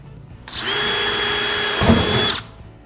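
A power drill runs steadily for about two seconds, driving screws to mount gear tracks onto an aluminum jon boat, with a brief clunk near the end as the screw seats, close and loud with no talk.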